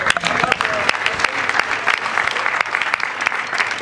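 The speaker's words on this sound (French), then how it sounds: "Encore applaudir très fort" Loud, sustained applause from an audience at a French-language discussion event, many hands clapping densely and evenly with sharp individual claps standing out throughout.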